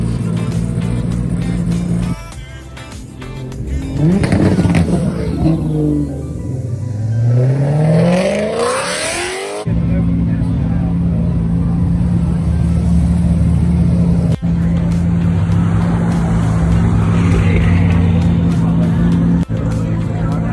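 A modded turbocharged Toyota Supra pulls away hard at a supercar meet, its engine rising through a loud climbing rev before fading, with crowd noise and talk around it throughout.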